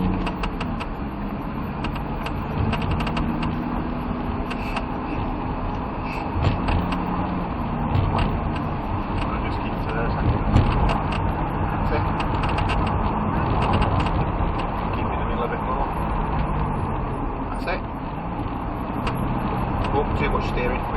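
A Lamborghini Huracan lapping a track gives a steady, loud engine drone heard from inside the cabin, with faint creaks and mechanical rattles throughout while a driving instructor talks over it.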